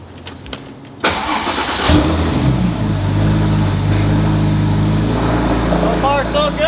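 A Porsche 911 Turbo engine cranks and catches with a sudden roar after fault codes are cleared, then settles into a steady idle; a voice briefly speaks near the end.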